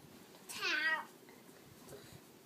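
A cat gives a single clear, rising and falling meow at close range, standing out against a quiet room hum.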